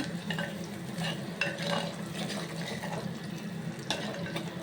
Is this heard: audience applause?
no